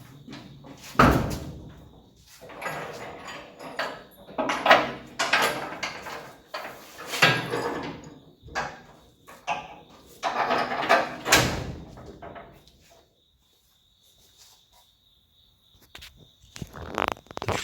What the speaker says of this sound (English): The tailgate actually works like it should too